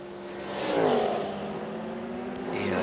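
Toyota and BMW prototypes at the 1999 Le Mans 24 Hours roar by one after another, engine whine rising and sweeping down as each car passes close, with no talk.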